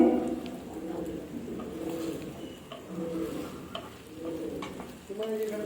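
Chilli paneer stirred with tomato ketchup and sauces in a frying pan, a soft steady sizzle with scraping strokes, while a pigeon coos repeatedly nearby over it.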